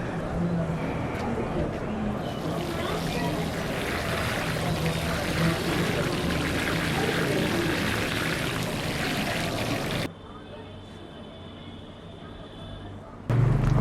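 Water poured onto a potted banyan bonsai with well-draining media, a steady close rush of pouring and splashing that runs continuously for about ten seconds, then drops to a quieter trickle before a short louder burst at the end.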